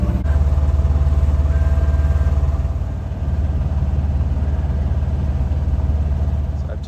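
A boat motor runs close by, a steady low droning hum that holds at an even level throughout with only a brief dip midway.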